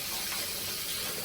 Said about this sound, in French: je vais prendre ma petite serviette comme ça. Je mouille avec de l'eau.